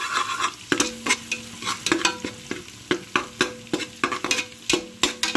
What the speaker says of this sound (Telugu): నేను హైలో పెట్టుకున్నాను. ఇలా బాగా వేగాలన్నమాట.